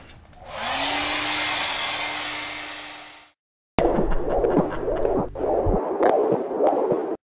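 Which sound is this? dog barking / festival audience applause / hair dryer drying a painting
hair dryer drying a painting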